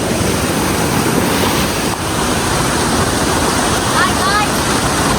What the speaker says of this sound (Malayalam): നല്ല ഒഴുക്കാണ് ഗൈസ്, നല്ല വെള്ളം കൂടുതലാണ്